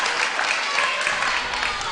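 Basketball crowd at a Ringwood versus Hume City grand final cheering and applauding, a dense, steady roar of claps and voices filling the whole stretch without a break.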